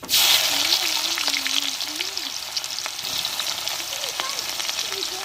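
Chopped onions dropped into hot oil with cumin and curry leaves sizzle loudly in a pan, a sharp initial hiss settling into steady close frying with occasional stirring clinks.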